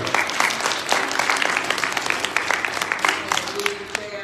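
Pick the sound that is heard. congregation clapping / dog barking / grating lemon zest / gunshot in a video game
congregation clapping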